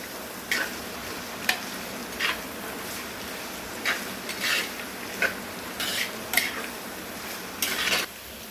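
Onions sautéing in a pan for chicken curry, with a handful of short bright stirring scrapes and light sizzle bursts over a steady low background hiss, close by with no talking.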